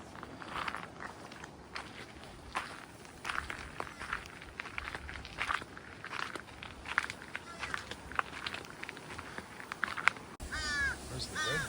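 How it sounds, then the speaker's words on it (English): Crows caw repeatedly near a lighthouse on the coast between Acadia, Maine and Campobello Island, their harsh calls scattered over steady outdoor ambience and footsteps, with people talking now and then. "Dirty birds."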